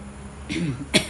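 A voiced throat sound followed by one short, sharp cough, close and fairly loud over a quiet background.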